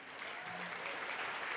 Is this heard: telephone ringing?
no